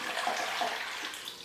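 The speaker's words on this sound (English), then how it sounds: "I'll just go ahead and put the water in." Two cups of water poured into the bottom of a turkey roasting pan, a soft continuous splashing trickle that runs steadily, fairly quiet and close, with no talking over it.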